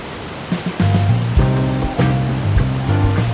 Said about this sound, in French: là, on est au bord d'une petite rivière